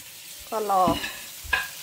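Chili and garlic fry in a pan for Thai pad krapow. A soft sizzle comes with a couple of quick stirring scrapes, and a single short spoken syllable is heard.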